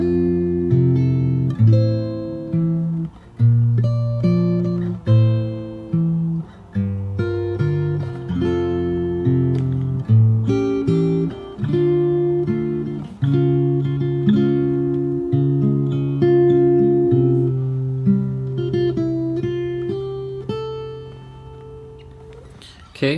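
Fingerstyle acoustic guitar playing the first verse of a song, plucked melody notes over picked bass and chords in a slow, gentle rhythm, close and clear with no talking.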